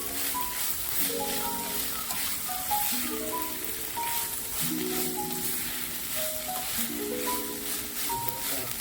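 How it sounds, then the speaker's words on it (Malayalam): Mushroom thoran, Kerala style, stirred and frying in a pan, giving a steady soft sizzle throughout while a quiet melodic tune plays over it. "ഇളക്കി കൊടുക്കുക."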